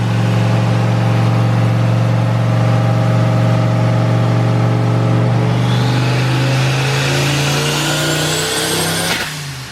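A turbocharged car engine revving hard and steady at close range, its pitch climbing near the end before a sudden cut-off with a quick hiss as the blow-off valve vents, no voices over it.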